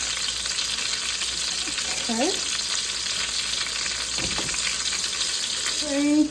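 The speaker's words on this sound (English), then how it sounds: "Please don't let it stay in the skillet so long." Chicken schnitzel cutlets frying in a skillet, giving a steady, close hiss and sizzle with a few brief clinks and scrapes of turning in the pan.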